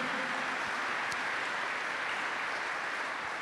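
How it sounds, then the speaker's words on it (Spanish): A church congregation applauds for the Lord: steady, dense clapping fills the whole stretch at an even level, with no voice over it. "Dele fuerte ese aplauso al Señor, déselo fuerte a Él"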